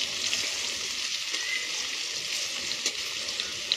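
Potatoes frying in a pan for a cauliflower and potato curry, a steady close sizzle with a few faint pops and stirring touches.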